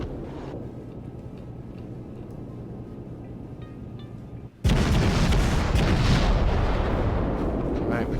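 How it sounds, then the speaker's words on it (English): Naval guns on a cruiser in the World of Warships video game fire a salvo after a tense low hum, bursting into a loud, sustained booming roll that continues to the end. "we probably missed with all those shots, but we got them off, right?"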